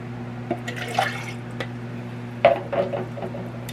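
Water poured into a crockpot around a seasoned pot roast: soft trickling and splashing in short bursts over a steady low hum, close and fairly quiet.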